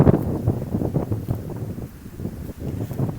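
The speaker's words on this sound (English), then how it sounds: "It's pretty windy down here." Gusty wind buffets the microphone outdoors, a steady low rumble with rustling bursts throughout, no voices.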